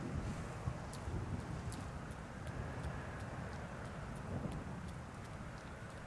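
Stormy wind roars steadily through the Land of Storms in Hollow Knight, a constant dense rushing gust with faint rain-like patter, moderately quiet and without any talk.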